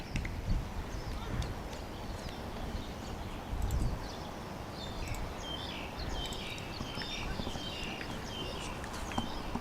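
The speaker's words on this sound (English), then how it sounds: "As we hear most mornings here at Ting Kwong Road, the birds are chirping." Small birds chirp and twitter in the distance over a steady outdoor hum at a morning cricket match on Ting Kwong Road, Hong Kong, with a couple of soft thuds early on.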